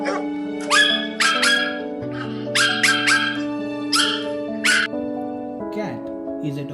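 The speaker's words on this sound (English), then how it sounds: "A dog barks. Let's hear how dog barks." A domestic dog barks and yips in several sharp, loud bursts over roughly six seconds, with a steady tonal background underneath and a softer whimper-like sound near the end.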